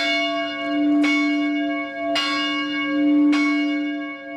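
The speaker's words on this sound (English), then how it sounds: "outside of the team's beloved mascot, Uga, none can be said to be more poignant than the ringing of the chapel bell." A university chapel bell on a college campus rings out in three slow, resonant strikes, each ringing tone lingering and overlapping into the next, clear and unaccompanied.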